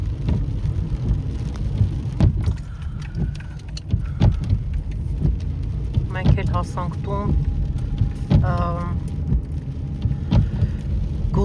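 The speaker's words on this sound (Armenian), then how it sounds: "մի փոքր այսպես անձրևը թեթևանում է, հետո նորից շատ ուժեղ անձրև է գալիս" Heavy rain pours steadily outdoors as a constant broadband hiss, with a person talking over it and a few brief clicks and knocks mixed in.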